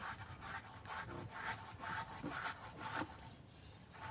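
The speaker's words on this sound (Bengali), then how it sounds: "চালের গুঁড়ো, গমের আটা একটু এইভাবে মিশিয়ে নেব।" Hands mix rice flour and wheat flour together in a bowl, making soft, repeated rubbing and scraping strokes in a steady rhythm, close and faint.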